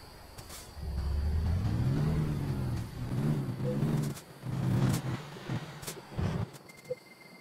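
A truck in American Truck Simulator maneuvers with its engine droning and rising and falling in pitch through several revs, then cutting out near the end.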